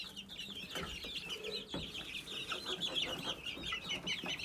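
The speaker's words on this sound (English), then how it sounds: "I love that chicken." A flock of chickens clucks steadily and busily among roosters, the calls overlapping continuously at close range with no pauses.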